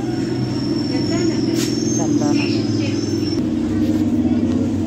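An MMTS commuter train pulls out of Chandanagar station with a loud, continuous low rumble of wheels and motors, a thin high whine overhead and brief squeals, heard from inside the carriage.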